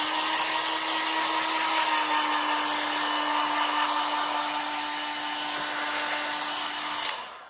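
A hair dryer runs steadily for several seconds, drying a freshly painted furniture finish, a loud continuous whirring blow with a constant hum that cuts off abruptly at the end.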